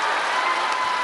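Applause from the crowd at an ITTF Mixed Team World Cup 2025 table tennis session after a Team China match, a steady dense wash of clapping throughout, loud and even with no gaps.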